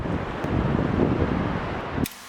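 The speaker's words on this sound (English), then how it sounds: "Too windy." Strong wind blows across a garden bed, a loud, steady broadband roar filling the first two seconds before cutting off abruptly.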